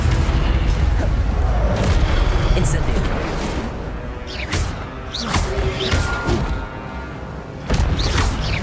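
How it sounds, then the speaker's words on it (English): Spell-casting effects from Hogwarts Legacy, with fiery bursts and whooshing blasts over a constant loud game backdrop, repeated several times across the stretch. "Incendio."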